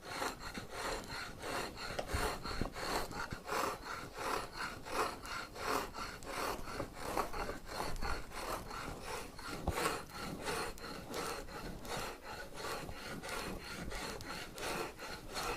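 A handmade spokeshave shaves a piece of black cherry wood, rounding the stock in steady, repeated rasping strokes. Each pass is close and fairly loud, and the strokes run continuously with no voices.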